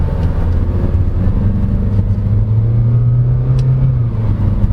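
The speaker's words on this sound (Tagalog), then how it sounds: "There, you can hear it shifting." A 2022 Chery Tiggo 2 Pro with a simulated 9-speed CVT accelerates in manual mode, a loud steady engine drone whose pitch climbs gradually and then steps down as a shift is simulated, heard from inside the cabin.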